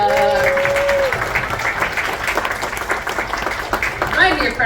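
An audience at a school American Revolution play applauds and cheers for the Samuel Adams character, a continuous clapping wash under a raised voice.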